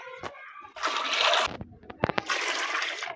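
Water poured into a large pot of rice, about three kilograms, in a village kitchen: two loud splashing pours separated by a short pause with a few clinks and drips between.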